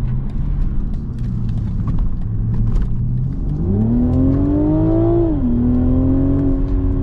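A BMW Z4 M40i's engine rises in a loud, climbing rev as the car accelerates hard on the Autobahn, then drops with a gear change and holds a steady drone, heard from inside the car.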